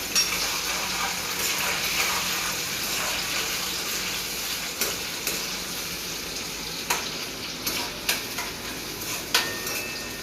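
Tomato frying and being stirred in a pan over low gas for pasta sauce, a steady close sizzle with intermittent scraping clicks of the spoon toward the end, no talking.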